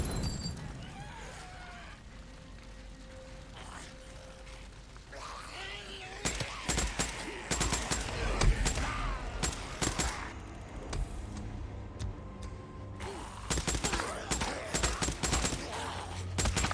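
Repeated gunfire bursts and shots in the video game Days Gone, loud and dense, with rapid volleys and impacts following a quieter opening, while someone talks over the action.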